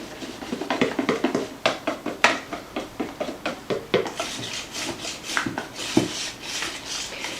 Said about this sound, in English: you're going to whisk this until there's no flour lumps in it